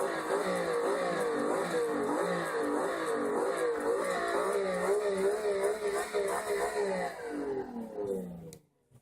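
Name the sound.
video game car engine revving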